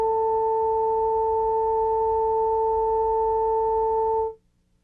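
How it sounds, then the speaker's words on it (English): A steady pair of pure electronic tones sounding together as one sustained chord, even and loud, holding for about four seconds before cutting off. "More complex sounds can be made by combining sine waves."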